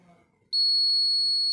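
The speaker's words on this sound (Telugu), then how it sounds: "బజర్ చూసారా ఎలా సౌండ్ వస్తుందో" A loud, steady high-pitched electronic buzzer of a homemade fire alarm, triggered by a lit flame, switches on abruptly and sounds continuously without a break, after a moment of quiet.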